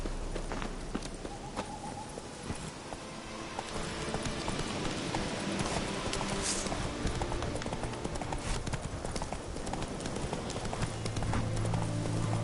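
Roach, a horse in The Witcher 3, trots with a rhythmic clip-clop of hooves, steady and fairly close, under faint ambient sound that swells slightly partway through.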